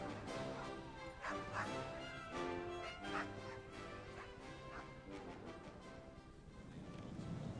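Nearly seventy Canadian sled dogs aboard the ship Endurance bark, yip and whimper together in an excited, overlapping chorus at moderate distance, with no talk.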